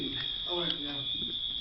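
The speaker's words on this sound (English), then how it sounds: "Alarms going on." A school fire alarm sounds as a steady, piercing electronic tone held throughout, with people talking loudly over it in a busy room.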